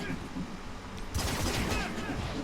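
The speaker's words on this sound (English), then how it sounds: "Let me use the explosion now." An explosion attack in the Marvel Strike Force mobile game lands about a second in, with a loud burst of crackling blasts and rumble that carries on over steady background game noise.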